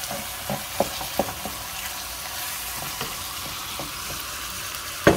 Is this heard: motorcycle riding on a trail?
no